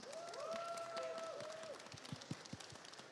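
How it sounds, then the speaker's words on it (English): A Comic Con panel audience claps for two guests, a steady wash of applause with a few whistle-like gliding tones early on and some low thumps toward the end, at moderate volume. "So if you could give me a round of applause for Phoebe and Jake."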